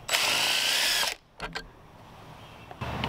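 A power drill whines loudly for about a second while driving a flathead screw with a hex nut bit, then stops, followed by a couple of short clicks and a brief restart at the end.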